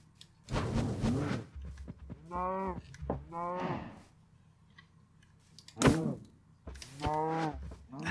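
Cattle in a video game moo loudly several times in long, drawn-out calls, some overlapping and some spaced apart, with quieter bursts of game sound in between.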